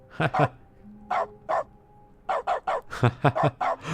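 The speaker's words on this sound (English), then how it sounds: "a console command that makes the use button make a barking sound" A dog barks repeatedly in short bursts, a pair, then a pair, then a rapid run of yips, a sound effect in The Stanley Parable 2, with faint background hum.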